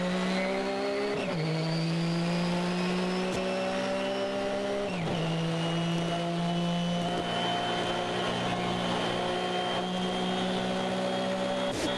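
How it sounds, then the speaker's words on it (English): Nissan GTO-class race car at a 1990 street-circuit Grand Prix, howling at full throttle down the straightaway with rising engine pitch through two quick upshifts. Loud and sustained, with no commentary over it. "let's listen to the Nissan go to work"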